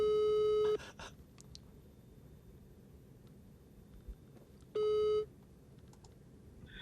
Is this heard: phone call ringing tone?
yes